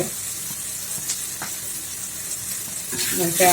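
Mashed potato with turmeric and potato masala sautéing in an oiled pan, a continuous close sizzle with soft stirring scrapes that swell louder toward the end, no talk.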